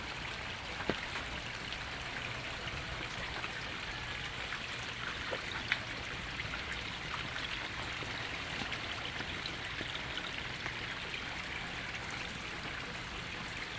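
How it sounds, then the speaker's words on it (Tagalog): A gentle stream of water flows and trickles steadily at a low level after rain has stopped, with occasional faint drips, no voices present. "Mahina na ang agos ng tubig kasi tumigil na ang ulan."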